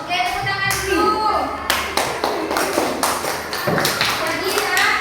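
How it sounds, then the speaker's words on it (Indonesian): Children clapping their hands together in a classroom, a run of sharp, close claps with voices mixed in around them. "tepuk tangan dulu"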